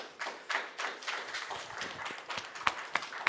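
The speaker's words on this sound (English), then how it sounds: "Let's give him a round of applause" A conference audience claps after a talk, a scattered patter of hand claps with a few sharper individual claps standing out near the end, fairly quiet and distant.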